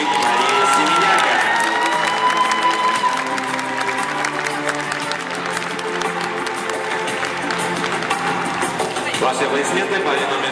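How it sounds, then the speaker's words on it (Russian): Audience applause greets a ballroom dance couple at the final of an international youth standard tournament at the Minsk Open, a dense, steady wash of clapping and crowd noise with music underneath throughout. "Ваши аплодисменты паре номер 361"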